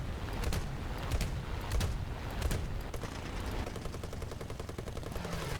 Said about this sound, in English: we're going to fire. Just lug a few shots at him.